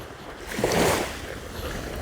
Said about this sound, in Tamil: கடலை பாருங்க இப்படி தண்ணி அடிக்குதுண்டு